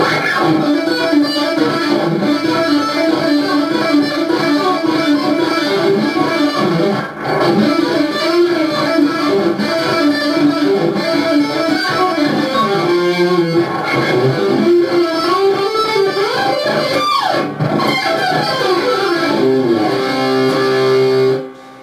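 An electric guitar with effects plays a flowing pentatonic line using hybrid picking, pick downstrokes alternating with finger upstrokes, notes quick and continuous for about twenty seconds, with no talking.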